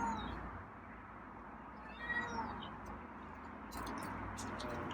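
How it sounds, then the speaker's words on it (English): A feral cat meows softly a few times in a quiet room, faint and intermittent, with light clatter near the end. "So it sounds like he's meowing, so that's a good thing."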